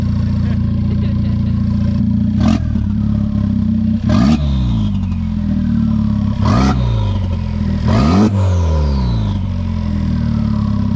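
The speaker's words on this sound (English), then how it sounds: "you can hear a lot of turbo spool" A Honda Type R fitted with a PRL Motorsports titanium turbo inlet pipe revs repeatedly over a steady loud idle, each blip followed by a sharp, whooshing turbo spool and flutter, four distinct bursts in all.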